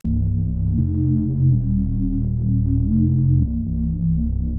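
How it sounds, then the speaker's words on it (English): A deep synthesizer bass made with the Vital synth plays sustained low notes that shift pitch every second or so, steady and loud with no other sounds. "Here's a bass sound I made with Vital."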